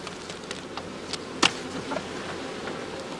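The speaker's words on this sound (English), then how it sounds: "By blowing smoke from his pipe and by tapping lightly, the beekeeper makes the bees detach themselves from the combs." Bees buzz softly on the combs of a basket hive while a beekeeper works them with pipe smoke and light tapping, a low continuous hum with one brief sharp tap.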